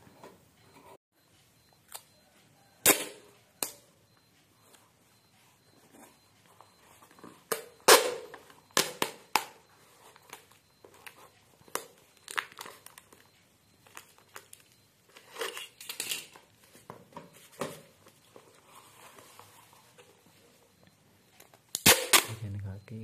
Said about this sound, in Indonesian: Lalu kita tutup dengan lakban.